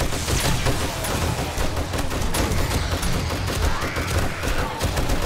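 Gunfire aimed at hordes of zombies in the survival video game 7 Days to Die, a relentless, loud stream of rapid shots with no break across the whole stretch.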